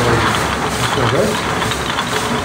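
Old belt-driven workshop machine with a ceiling-mounted idler pulley and a motor pulley beside it, giving a steady mechanical whir with faint ratcheting clicks, continuous and close, with a voice speaking over it.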